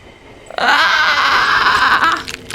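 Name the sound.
scream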